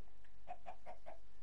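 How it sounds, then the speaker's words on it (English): A Minecraft chicken clucks four times in a quick, even run, clear and moderately loud with no talking over it. "Come here, chicken, where are you running?"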